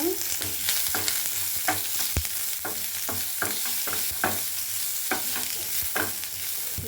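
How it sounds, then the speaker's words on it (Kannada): Onions frying in a pan while being stirred, a steady close sizzle with repeated scraping stirs in irregular rhythm, no talking. "ಸ್ವಲ್ಪ ಈರುಳ್ಳಿನೂ ಅಷ್ಟೇ ಒಂದು ಎರಡು ನಿಮಿಷ ಫ್ರೈ ಆಗಬೇಕು"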